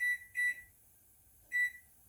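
An oven timer being set gives three short, clean electronic beeps, two in quick succession then a third after a pause, in an otherwise quiet kitchen while baking a cheesecake.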